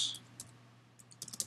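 Quick bursts of typing on a computer keyboard while working in Microsoft Word, a few close, light clicks at the start and a tighter cluster near the end, with a short quiet gap between.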